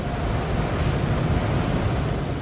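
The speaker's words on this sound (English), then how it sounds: "These fans hit your car with intense air pressure." Powerful car wash drying fans blast high-pressure air over a freshly washed car at an automatic wash, a loud, steady broadband roar that holds unbroken and close throughout.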